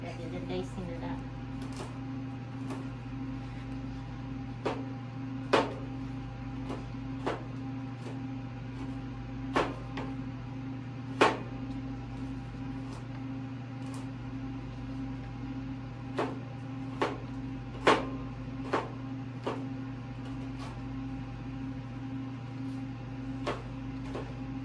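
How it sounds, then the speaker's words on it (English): A knife dices a carrot on a cutting board, sharp isolated chops landing irregularly every second or two over a steady appliance-like hum. "I'd be eating this little piece of carrot rather than dicing it up"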